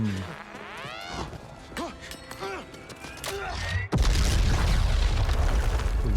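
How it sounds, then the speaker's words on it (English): A grenade goes off in Star Wars Jedi Survivor: a sudden loud blast about two-thirds through, followed by a sustained roaring rumble, after a stretch of game sounds, whooshes and tonal sweeps with faint voices. "A really crappy grenade."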